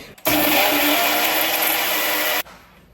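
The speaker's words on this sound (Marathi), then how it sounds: "पहिल्यांदा मी काय करणार आहे की ज्या आपल्या सुक्या गोष्टी आहेत त्या वाटून घेणार आहे" A mixer grinder whirs steadily at high speed for about two seconds, grinding dry spices, then cuts off abruptly; the loud motor noise stands alone without talk.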